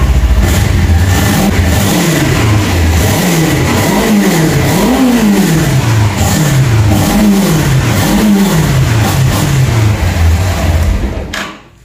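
A Suzuki Inazuma GW 250 motorcycle, suffering from loss of pulling power and poor throttle response, revs repeatedly in rhythmic rising and falling waves, loud and close, for about eleven seconds before cutting off.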